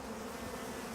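Bees swarm in the Icarus video game, a dense, constant buzzing drone that is loud and close for the whole second with no talking.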